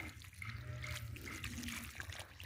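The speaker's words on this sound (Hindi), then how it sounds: "और इसके साथ ही हम इसमें पानी दे देंगे।" Water pours and trickles steadily onto the soil around a freshly transplanted banana plant, a soft, close, continuous splashing with no talk.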